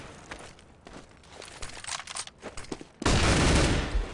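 Rapid automatic rifle spray in the Counter-Strike video game during an ESL match, a dense burst of gunfire after a stretch of scattered softer shots and clicks, loud and close for the final second.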